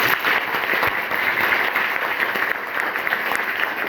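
Loud, continuous applause from a room of school students at a secondary school in Kerakat, Jaunpur, dense and steady for the whole stretch with no talk over it.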